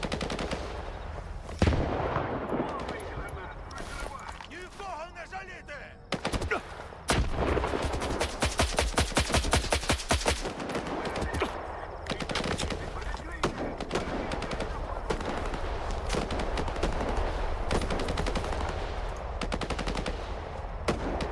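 Gunfire in the shooter game S.T.A.L.K.E.R. 2, loud sustained automatic bursts and scattered single shots over about twenty seconds, with a rapid machine-gun stretch near the middle and someone talking over parts of it.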